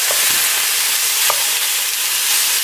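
Beef pieces and onions sear in a hot pan with a loud, dense, unbroken hiss of sizzling fat, heard up close with a couple of faint knocks partway through.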